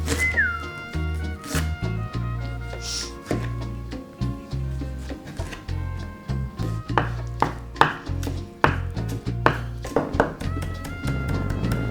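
Knife chopping half a red onion on a cutting board for mango pico de gallo, a brisk run of close, uneven taps and thunks with short pauses and a brief whistle-like tone early on.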